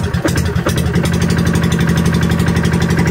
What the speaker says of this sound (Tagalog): i-start natin. Try natin half choke. Ayan, half choke lang pala.